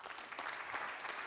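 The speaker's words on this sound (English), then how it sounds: "Please give Nadia a round of applause." A conference audience applauds as a speaker named Nadia heads to the stage at a regulatory science panel, brief, faint and distant clapping of a crowd.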